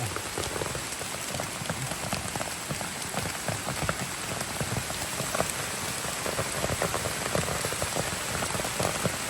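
Steady rain falls in a forest during a mushroom-gathering trip, a dense, even patter of drops on leaves and surfaces that continues throughout without pause, close and fairly loud, with no voices.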